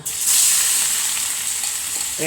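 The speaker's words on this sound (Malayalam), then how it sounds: "ചെറിയ ജീരകം മുളക് പൊടി ഇത്തിരി മല്ലിപ്പൊടി എല്ലാം കൂടി ഇട്ടിട്ട് നമുക്ക് ഒന്ന് മൂപ്പിച്ചെടുക്കാം" Cumin, chili powder and coriander powder hit hot oil in a pan with a sudden loud sizzle that settles into a steady bright hiss, brief and close, ending with a light clatter.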